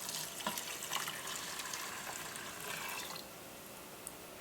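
Water pours from a cup into a 6-quart Instant Pot holding old-fashioned oats, a faint steady splashing stream lasting about three seconds before quieting, with no talking.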